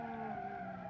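Tires skid and spin on a car in the BeamNG.drive driving game, with the ETK W Series mod car understeering. A steady, loud engine-and-tire whine holds throughout with no pauses.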